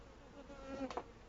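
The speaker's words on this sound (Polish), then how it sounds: "A tu w tej półnadstawce jest bardzo dużo pszczół" A faint, steady buzzing of many honeybees inside a hive's half-super, a low droning hum that swells briefly louder near the end.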